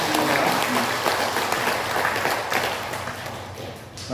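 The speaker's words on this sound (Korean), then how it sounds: "우리 축복의 박수를 한번" Dense, sustained applause from a Sunday worship congregation greeting a recently married couple, a loud continuous wash of many hands with voices faintly mixed in.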